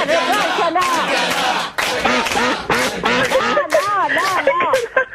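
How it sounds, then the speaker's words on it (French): Duck quacking, loud and close, comes as a rapid series of nasal calls that keep going with short gaps, sometimes overlapping, and nothing else is heard in the background. "Un canard. Un canard."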